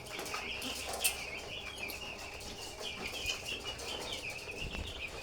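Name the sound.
chicks gathered drinking vaccine water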